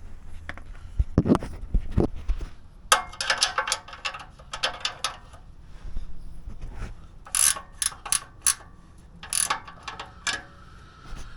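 A wrench tightens a bolt fixing an exhaust support to the unibody of a Nissan, giving bursts of close ratcheting clicks in irregular runs separated by short pauses.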